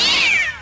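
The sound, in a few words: cat meowing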